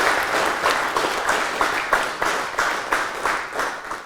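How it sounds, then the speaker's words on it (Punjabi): An audience applauds loudly to welcome Arjuna Award winner and retired commandant NS Bedi onto the stage, with dense clapping that pulses in an uneven rhythm before fading out at the end. "ਜ਼ੋਰਦਾਰ ਤਾੜੀਆਂ ਦੇ ਨਾਲ ਉਹਨਾਂ ਦਾ ਮੰਚ ਤੇ ਸਵਾਗਤ"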